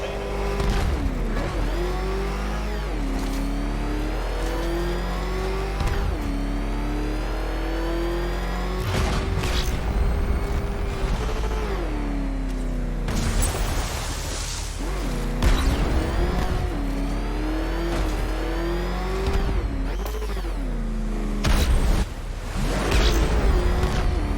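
Batmobile engine from Batman: Arkham Knight revving hard while driving, its pitch rising and falling in repeated surges over a constant low rumble, with bursts of whooshing and game voices talking over it.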